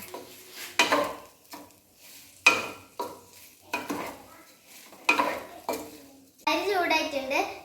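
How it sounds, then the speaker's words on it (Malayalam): Repeated scraping and clinking of a spoon stirring rice grains in a hot pan, in rhythmic strokes, with a soft sizzle near the end. "അരി ചൂടാണ് വരെ നന്നായി ഇളക്കി കൊടുക്കാം"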